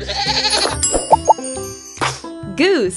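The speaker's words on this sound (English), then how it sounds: "Goat." A cartoon goat gives a quavering bleat in a children's coloring game, heard alongside a speaking voice, a few short tinkling chimes and a rising-falling sweep at the end.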